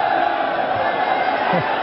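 A Muay Thai crowd cheers and shouts for boxer Phet Nong Bee S. Damnoen against Kongmethee Kaewsamrit, a steady roar of voices with rising yells, heard under ringside commentary.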